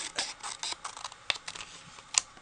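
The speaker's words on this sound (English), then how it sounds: "I'm just going to trim this piece up a little bit. I'm just going to take my scissors." Scissors trimming about a quarter inch off the edges of a card-paper panel for a handmade Easter card: a string of quiet, crisp snips and paper scrapes, close and soft, with sharper clicks near the end.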